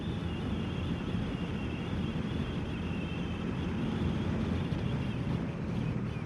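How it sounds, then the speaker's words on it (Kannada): Steady, loud wind noise roars continuously across the whole stretch, a dense rushing buffeting with no breaks and no voices, wind whistling past the ears while riding a motorcycle at Nandi Hills. "ಕಿವಿಗೆ ಯಾಕೋ ಗಾಳಿ ಸೌಂಡ್ ಕುಯಿ ಕುಯಿ ಕುಯಿ ಕುಯಿ ಕುಯಿ ಅಂತ ಇತ್ತೆ"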